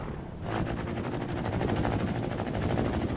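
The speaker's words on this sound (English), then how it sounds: "I built a helicopter, guys!" A player-built helicopter flies in the video game Trailmakers, its rotor throbbing in a quick, even pulse that stays steady and moderately loud after a brief quieter start.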